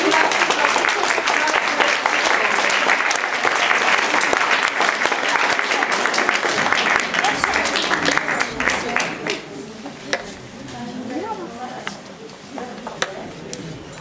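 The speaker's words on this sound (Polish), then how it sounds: "Wielkie brawa!" Audience applause at a nativity-play award ceremony, loud dense clapping that holds steady for several seconds before thinning out and fading, with a voice speaking over the tail.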